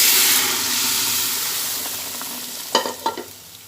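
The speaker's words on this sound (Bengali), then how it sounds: "যে ডালটা আমি প্রেশার কুকারে দিয়ে সিটি দিয়ে নিয়েছি সেই ডালটা এর মধ্যে ঢেলে দিই" Cooked masoor dal from a pressure cooker is poured into a hot pan with tempered spices, and a strong sizzling hiss fades gradually before a few short clattering splashes near the end.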